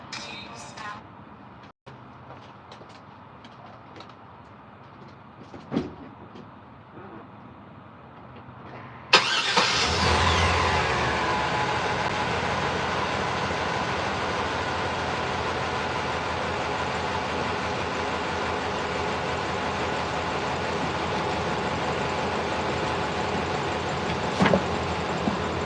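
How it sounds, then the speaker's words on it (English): A truck engine cranks and fires up partway through, then runs on with a rough, uneven idle that suggests misfiring, loud and steady to the end after quieter background noise at the start. "I'm gonna start up my truck so you guys can hear it"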